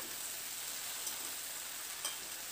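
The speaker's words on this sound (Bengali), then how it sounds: "পুঁইশাকটা দিয়ে নাড়াচাড়া করে সবজির সঙ্গে খুব ভালো করে এটাকে একটু মিশিয়ে নেব" Malabar spinach is stirred and fried with pumpkin in a pan for chorchori, making a continuous, even sizzle with light stirring scrapes close by and no talk.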